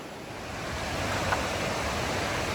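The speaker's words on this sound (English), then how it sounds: "Here the trail goes right above the 10-Mile River with the pretty good rapids going down there in that section." Rushing river rapids on the Ten Mile River below a trail, a constant broad roar of moving water heard from above, steady and unbroken with a slight swell partway through.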